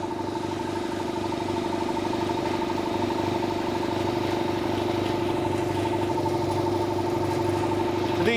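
An air compressor runs with its protective cage fitted in a home garage, giving a steady, moderately quiet mechanical hum with a low rhythmic throb and no break.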